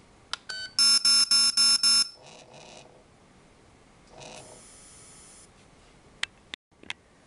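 An Aetertek AT-218 electronic dog collar gives a series of loud, rapid beeps in short bursts, followed by a lower vibration buzz twice and a few sharp clicks.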